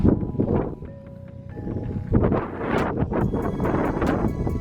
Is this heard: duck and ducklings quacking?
no